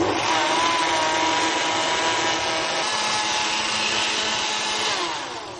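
A blender motor whirs steadily at high speed for several seconds while puréeing watercress and spinach soup, loud and close, with a harsh grinding edge, then starts to wind down at the end.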